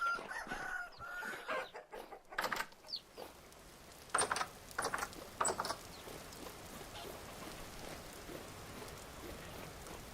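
Chickens clucking in the survival video game Vintage Story, a handful of short clucks and squawks in scattered bursts over a soft steady patter of rain, fading to rain alone.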